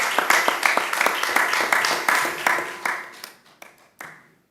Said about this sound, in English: Come on, give yourselves a nice round of applause.